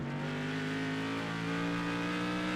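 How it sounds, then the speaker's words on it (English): A burly race car engine at a World Series of Asphalt Majors Series stock car race holds a loud, steady, close drone with a slight rise in pitch and no talk over it. "The engine as well. It's a nice burly engine."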